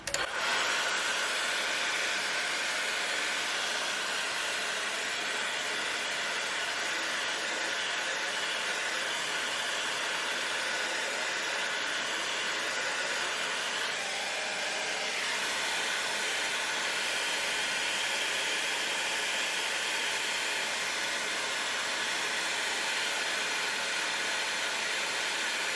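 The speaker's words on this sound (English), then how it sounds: "So I'm gonna use a hair dryer really quick." Hair dryer warming a strip of flexible molding, a steady, loud, close whooshing drone that runs unbroken from start to finish, with only a slight shift in tone partway through.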